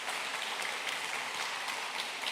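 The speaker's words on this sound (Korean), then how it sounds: "우리 감사한 마음으로 다시 한번 큰 감사의 박수 해주시면 고맙겠습니다" Church congregation applauding together at an Incheon Liberation Day joint worship service, a steady, dense patter of many hands clapping at moderate volume with no voices heard.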